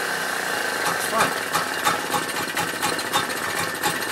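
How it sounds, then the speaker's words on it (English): A cold Vire engine idling with no choke and no throttle, a loud, steady, slightly uneven chugging rumble with irregular knocks and vibration, close by and running alone without voices. "Okay, so that's idling now, without choke"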